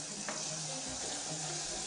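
Butter dropped into hot caramel for a French-style caramel sets off a steady, close sizzle with frying crackle that holds evenly for about two seconds, with no talking.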